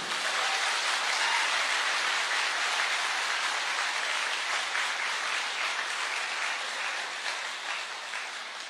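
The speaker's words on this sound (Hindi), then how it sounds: "तो एक जोरदार तालियां आपके सेहत के नाम पे" A large audience at a health talk gives sustained, dense applause, an even roar of many hands clapping that holds steady and tapers slightly at the end.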